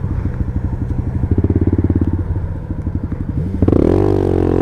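A small motorbike engine close by, chugging in a fast, steady pulse that speeds up slightly, then rises into a higher revving tone near the end, alone with no talking.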